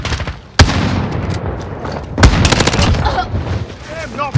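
Gunfire in Modern Warfare on PS5, with the B&T APC9-SD in play: sharp close shots and fast rattling bursts, a booming crack near the start and again midway, with voices shouting over the shooting.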